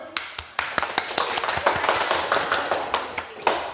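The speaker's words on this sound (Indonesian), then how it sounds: "Tepuk tangan lo." A small group claps during a Quran teaching-methods class session, with distinct sharp claps in an uneven rhythm over a softer background of scattered hand clapping.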